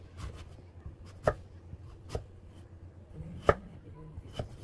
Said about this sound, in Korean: 다져줍니다.